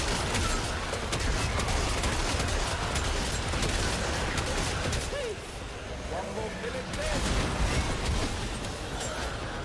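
Rapid gunfire and explosions from the video game Warframe form a dense, continuous barrage at moderate level, with a person talking over the game sounds.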